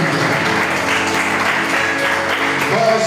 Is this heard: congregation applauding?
yes